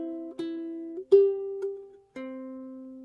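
Ukulele played fingerstyle and slowly, a few clear plucked notes ringing out one after another, close and solo with pauses between them.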